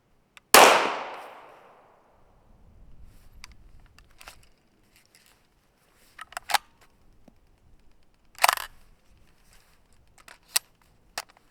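A Kriss Vector 9mm fed from RATL-R magazines fires a loud sharp shot, then a few scattered cracks and clanks follow after pauses, close by with no talking.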